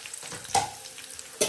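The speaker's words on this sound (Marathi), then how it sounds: "आता ते परतून घ्यायचंय सगळं साहित्य. कांदा, लसूण, मिरची, कढीपत्ता, अशा 4 गोष्टी आहेत." Chopped onion, garlic, green chili and curry leaves sauté in a pan for a simple Konkan-style home meal, a soft sizzle with two brief spoon scrapes standing out close by.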